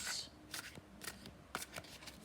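A tarot deck fanned out by hand, with cards pulled one after another, giving a few soft, quick papery swishes and flicks, close and quiet, with no talking.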